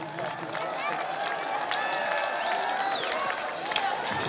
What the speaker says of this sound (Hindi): जोरदार तालियां सैयद साहब के लिए